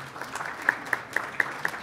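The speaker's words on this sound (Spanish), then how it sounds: "Un aplauso también para él, por favor." An audience at a national photography archives meeting applauds, a steady wash of many hands clapping with a few sharper claps standing out near the front, with no speech over it.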